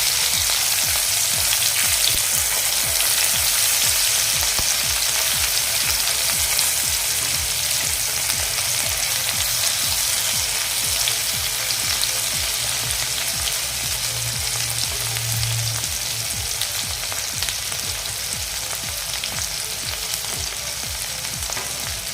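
Tomato sauce with chopped onion greens frying in a pan over a low flame, a dense, continuous sizzle close and loud throughout, with no talking.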